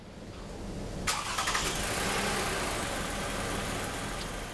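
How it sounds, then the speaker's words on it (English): A car engine on a vehicle undergoing an alternator ripple test cranks briefly and catches, then settles into a steady, fairly loud idle that continues close by with no talking. "I'm going to go over and start the car and see what the alternator looks like on this vehicle"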